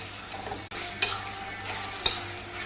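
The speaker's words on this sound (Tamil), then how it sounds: "நான் நல்ல ஆயிலில் டீப் ஃப்ரை பண்ணிகிட்ருக்கேன்" Boiled monitor lizard meat deep fries in oil with a soft continuous sizzle, punctuated by a couple of sharp crackles and a brief utensil clink, close and fairly quiet.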